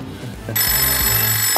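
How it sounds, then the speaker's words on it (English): A telephone starts ringing abruptly partway through, a loud, steady electronic trill that holds to the end over a faint low rumble. "That's the phone."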